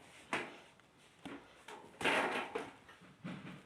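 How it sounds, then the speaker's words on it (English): A glass washing machine door on a Hisense machine is pulled free, giving a series of close, scraping knocks and clunks at irregular intervals, with no talk. "Pull out the door."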